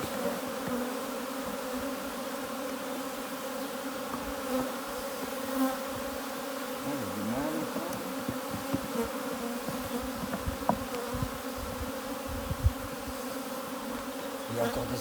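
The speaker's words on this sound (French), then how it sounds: "Il y a encore des abeilles quand même." Steady, dense buzzing of many honey bees around hives, continuous and close, with a few faint knocks and rustles.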